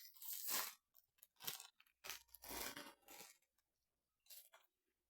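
Cheese and onion potato chips are bitten and chewed up close, giving about six loud, crisp crunching bursts in an uneven rhythm, each separated by brief quiet gaps.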